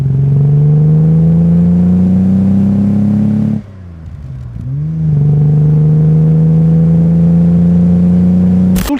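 An Aston Martin DB5 with a naturally aspirated 4-litre straight-six of 286 horsepower holds a steady, loud rev. Midway the revs drop sharply to a low idle, then the engine climbs back to a sustained high rev.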